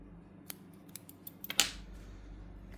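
Scissors snip through crochet yarn up close, a few light metallic clicks as the blades open and close, then one sharper, louder cut, all quiet and without talking.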